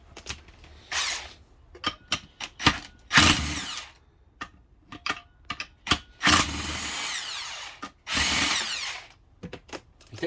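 An impact gun hammers at a tight transmission bolt on a 2005 Acura TL, firing in about a dozen short and longer bursts separated by quiet pauses, loud and close.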